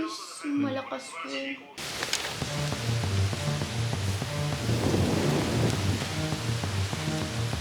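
Strong typhoon wind and heavy rain roar on a farm, a dense, steady wash of noise following a brief moment of speech at the start.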